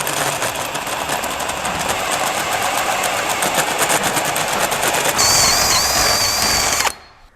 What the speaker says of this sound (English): So I gotta drill big enough holes in this bracket for that rod to fit through.